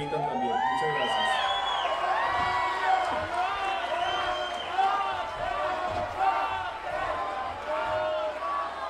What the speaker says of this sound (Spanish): Fuerte el aplauso entonces para el gran Manuel José